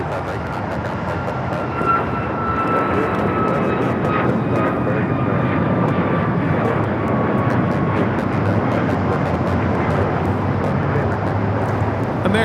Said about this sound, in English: 1979 taking off to Chicago on the MAX 8s